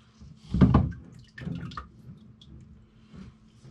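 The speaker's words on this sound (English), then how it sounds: "Pour the developer in, and once it's all in," Film developer is poured into a pre-soaked developing tank, heard as a close liquid splash and gurgle that swells early and then fades into smaller trickles.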